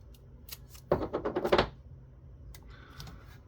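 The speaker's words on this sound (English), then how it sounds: "we're just going to use some painter's tape to help it stay in place" Painter's tape is handled during the teardown of an LG Flatron W2053TP 20-inch LCD monitor, giving a quick, close burst of crackly ticks and rustles that lasts under a second, with quiet room tone around it.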